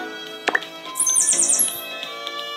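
A small black bird gives a quick flurry of high, bright chirps lasting under a second, heard close and clear over a faint hum and a few soft clicks.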